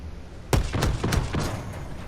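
A vehicle in Battlefield 2042 fires a rapid burst of about five heavy shell blasts, loud and close, each a sharp boom trailing into rumble.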